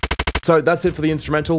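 Machine-gun sound effect shortened with volume automation in FL Studio: five clipped, evenly spaced loud bursts in quick succession, then someone speaks.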